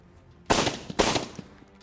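Two sharp, loud gunshots about half a second apart from competitive sport shooting at an Olympic-hopeful level, each crack trailing a short ringing decay in an open outdoor setting.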